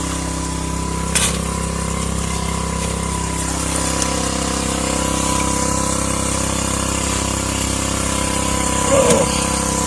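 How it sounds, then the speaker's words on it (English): A small water pump engine runs steadily at about half throttle, a constant mid-pitched drone throughout with occasional clanks and knocks nearby, while someone speaks briefly over it. "I'm only running about half throttle on the pump."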